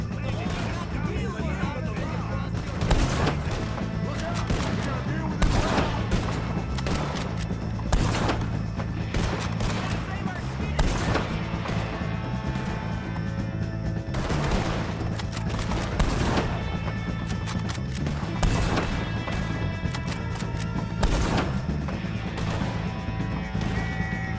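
Gunfire crackles through a Red Dead Redemption 2 shootout: a dense, near-continuous fusillade of sharp shots at varying distances over steady background rumble, with voices underneath.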